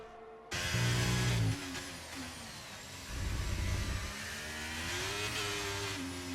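A Ferrari Formula 1 race car in a racing video game on the Brazil circuit, its high engine note revving and shifting through gears, surging loud then easing, with a steady howl throughout.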